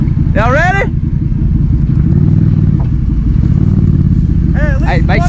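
Junk race car engine idling and running close by, a loud steady rough rumble throughout, with people talking and shouting over it.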